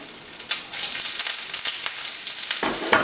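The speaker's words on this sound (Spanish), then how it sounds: "Voy a agregar aquí la cebolla, la voy a dejar aquí a que suavice" Onion softening in hot oil in a pan for Mexican huitlacoche soup, giving a steady close sizzle with crackling bursts and a few stirring scrapes, no voices.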